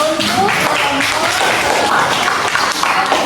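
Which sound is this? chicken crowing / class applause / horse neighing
class applause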